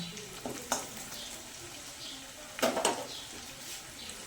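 Sliced onions fry in a pan for a rui posto, giving a quiet, steady sizzle. A few clinks and scrapes of stirring rise over it, louder toward the end.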